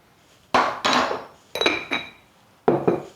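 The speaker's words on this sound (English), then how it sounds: "So we will mix both potatoes." Potatoes are stirred and scraped in a bowl in three separate bursts, with clinking knocks of a utensil against the sides between quiet pauses.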